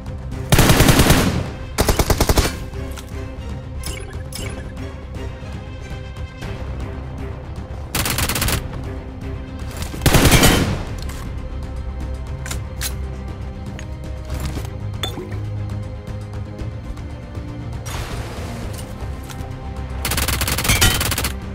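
Automatic gunfire from a P90 in the BGMI video game, with loud bursts of rapid shots recurring over a steady busy game background and no talk.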